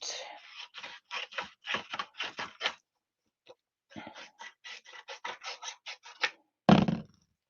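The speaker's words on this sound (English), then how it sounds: "let's get my scissors again, and let's cut this out" Scissors cut paper for a handmade card in two runs of quick, crisp snips, close and rhythmic, with a short pause between runs and a louder rustle of paper at the end.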